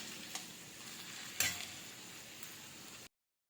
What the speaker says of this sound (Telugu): ఇప్పుడు ఇలాగే మధ్య మధ్యలో కదుపుకుంటూ ఈ ముక్కలన్నిటిని బాగా ఫ్రై చేసుకుందాం.